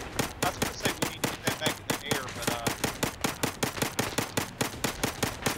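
Rapid automatic gunfire in the VR shooter Zero Caliber, a fast, even string of close, loud shots continuing through the whole stretch with no pause.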